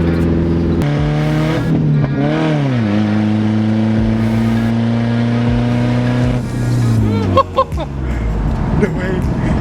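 A loud car engine revs and holds a rising, roaring drone, with a sharp burst of revving near the end.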